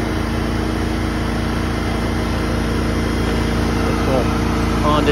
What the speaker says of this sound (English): Honda generator going there. Powers the whole thing.